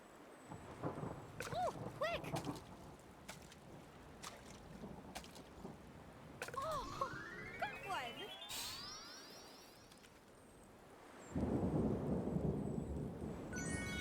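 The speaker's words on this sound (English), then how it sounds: "They're trying to keep dry from all the rain." Rain and rumbling thunder fill a stormy scene in the video game Wylde Flowers, with steady rainfall beneath a voice talking and a loud burst of heavy rain near the end.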